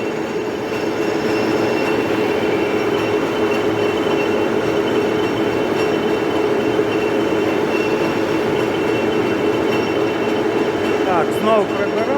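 A 1M63 metal lathe turns a long taper with longitudinal feeds engaged, producing a loud, continuous machine rumble and whine that stays steady throughout, with a few faint squeaks near the end.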